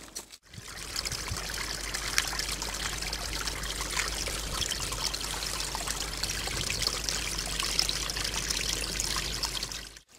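Shallow creek water trickles and babbles steadily over rocks, a continuous close wash of running water that holds at an even level with no voices.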